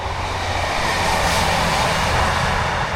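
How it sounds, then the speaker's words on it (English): A train passes close to a campsite at Halloween time, making a loud, steady broadband roar that fills the whole stretch without any voices. "And there goes the train."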